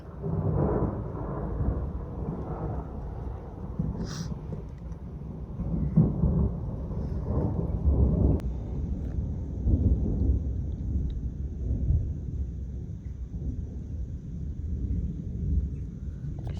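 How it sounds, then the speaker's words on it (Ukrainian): Deep thunder rumbles in long rolling waves, loud and heavy, with low wind buffeting the microphone and no talking. "цілий день був дощ, гримить, і зараз гримить"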